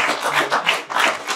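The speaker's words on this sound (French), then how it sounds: "On peut vous applaudir." An audience at a public debate on hosting datacenters in Île-de-France claps together, a dense, rhythmic burst of many hands heard close and fairly loud.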